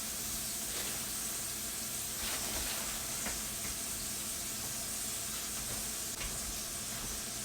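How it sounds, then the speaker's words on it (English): A salted sirloin steak sizzles steadily in a hot pan, a close, continuous hiss and crackle with small pops that runs the whole time without talk. "So right now I need to cook up my sirloin."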